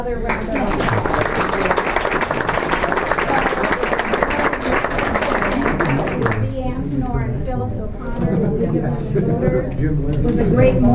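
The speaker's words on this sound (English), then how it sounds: "Let's give them another round of applause." Audience at a nonprofit partnership candidate forum in Long Beach breaking into sustained, dense applause that fades after a few seconds, with a voice speaking over the tail.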